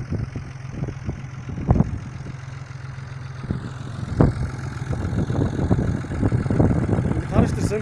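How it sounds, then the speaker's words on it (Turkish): A New Holland 50C tractor engine idles nearby on a potato farm with a steady low chugging hum, while people talk over it and a few sharp knocks and clatters break through. "Traktörün güzel sesi var ama değil mi?"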